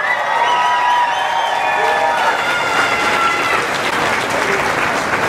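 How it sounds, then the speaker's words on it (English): A crowd at an outdoor Memorial Day remembrance ceremony applauds the United States Air Force drill team with sustained clapping and some cheering. Faint tonal sounds run beneath the continuous applause. "Let's have a nice round of applause for the United States Air Force drill team."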